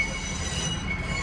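Railway wheels squeal as trains pass near a yard where diggers and dumpers are worked on, a steady high screech over a continuous low rumble, fairly loud and unbroken throughout.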